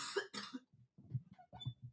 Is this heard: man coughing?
yes